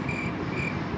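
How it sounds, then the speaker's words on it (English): A cricket chirping steadily in the background, a faint continuous trill over low rumbling ambient noise, with no talking. "Cricket."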